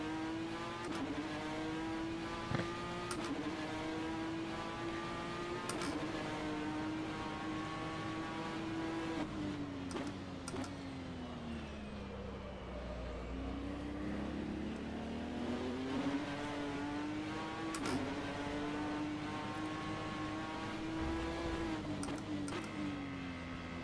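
Ford GT GTE race car in a racing video game, its engine droning steadily at high revs with gear changes and pitch dips as it brakes and accelerates through corners, loud and continuous with no talk.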